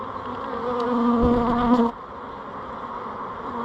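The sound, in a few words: honeybees buzzing around hive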